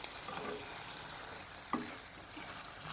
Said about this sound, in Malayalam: നല്ലോണം ഇളക്കുക.